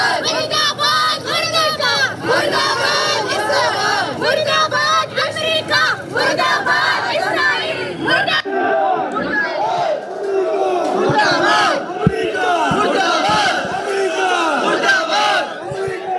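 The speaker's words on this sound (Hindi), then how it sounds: "यहाँ पर अमेरिका मुर्दाबाद के नारे लगाए जा रहे हैं" A protest crowd, including women, chants anti-America slogans in loud rhythmic unison, voices massed and shouting close by, with a brief dip in the middle before the chanting resumes with crowd babble.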